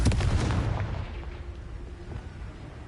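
A Confringo spell explodes in Hogwarts Legacy, one loud booming blast right at the start that rumbles and fades away over a few seconds.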